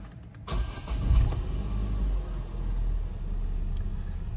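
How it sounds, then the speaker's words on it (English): A Vauxhall Zafira engine cranks and fires, then settles into a steady low idle rumble close by. "Car starting fine."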